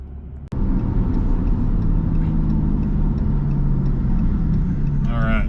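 A RAM 3500 truck hauling a wide load kicks in abruptly with a loud, close engine drone that holds steady as it pulls away onto the road, with a brief higher sound near the end.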